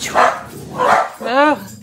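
Dogs barking at home during an indoor craft session: three loud, close, sharp barks in quick succession, each separated by a brief pause.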